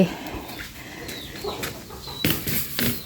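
Chickens near a pig pen on a farm cluck and call in scattered short bursts, some close and some farther off, with a few sharper squawks toward the end.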